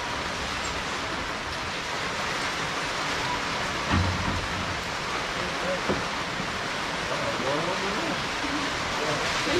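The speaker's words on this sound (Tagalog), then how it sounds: "habang nagpapatila tayo ng ulan" Steady rain falls at a well while a water pump connector is being fitted, a dense, even hiss throughout with a few faint knocks and voices underneath.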